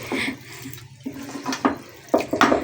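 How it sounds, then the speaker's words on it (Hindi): Water poured into a pot of palak gosht with chicken, spinach and potatoes, a few short splashing pours and gurgles separated by brief pauses, close and moderately quiet. "फिर थोड़ा सा हम पानी डाल देंगे ताकि ये गल जाए अच्छी तरह से"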